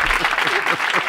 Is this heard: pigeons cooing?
no